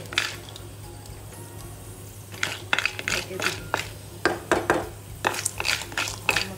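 Caramel popcorn scraped and stirred in a pan, with irregular bursts of clattering, scraping strokes growing busier partway through over a low background hum, and a voice talking at times.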